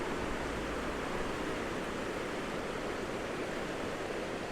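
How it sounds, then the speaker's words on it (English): A clear mountain stream flows in Montana as a steady, even broadband rush of water, continuous and fairly soft, with no voices over it. "Look at this beautiful, beautiful stream. Look at this clear mountain water."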